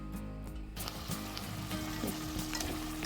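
Sausage sears in a pan with a little water, a steady crackling sizzle with low bubbling underneath, close and continuous for a few seconds with no talk.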